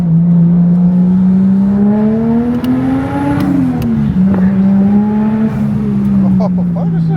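A Toyota Chaser drives off on its first ride, the engine droning loudly up close with a steady low hum that climbs, dips at a gear change and settles again, under bits of excited talk.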